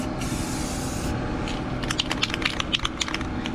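An aerosol can sprays black paint onto a car part from a turbo kit build on a Mazda Miata. Close, steady hissing bursts are mixed with light scraping and rubbing clicks, and there is no talk.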